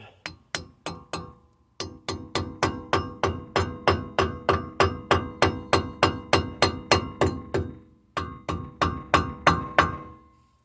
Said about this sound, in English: hammer, rubber mallet.